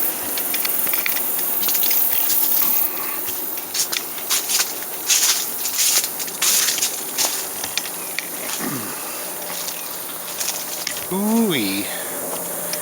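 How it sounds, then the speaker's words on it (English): Air conditioner running outdoors beside a muscadine grape arbor in a garden, a steady broadband hiss and hum that carries throughout, with brief chirping sounds over it. "Pardon the air conditioner noise there."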